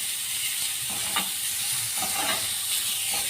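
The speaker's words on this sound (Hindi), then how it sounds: "इसको भी आपने अच्छे से भून लेना है ऑयल के अंदर।" Potato mixture for aloo paratha frying in oil, a steady loud sizzle with occasional stirring scrapes and small crackles, close up and continuous, no one speaking.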